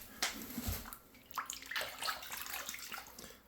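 Water sloshes and splashes in a shower pan filled for a shower makeover, with a low thump followed by irregular close, faint splashing and rippling.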